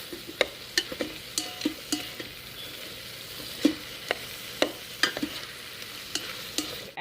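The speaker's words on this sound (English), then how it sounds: "So half a teaspoon of garlic going in. Give it a quick stir." Quiet, intermittent scraping and tapping of a spoon stirring half a teaspoon of garlic in an Instant Pot, faint sizzling underneath, with sharp clicks every half second or so and no talking.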